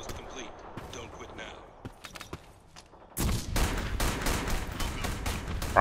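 Minigun gunfire in the BlackSquad video game: a few scattered shots at first, then a sustained loud stream of rapid rattling fire for the last few seconds, with someone talking in places.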